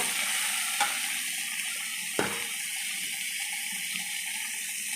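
Chopped onion with ginger and whole spices fries together in a pan for a chicken dish, a steady broad hiss with two sharper clinks of a utensil, close and even, without talk.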